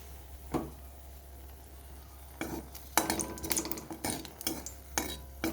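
Dried red chilies frying in a little mustard oil in a pan, a faint low sizzle broken by spatula scrapes and clinks that get busier toward the end, close, with no speech.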